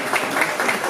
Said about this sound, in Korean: 우리 학생들에게도 격려의 박수 하겠습니다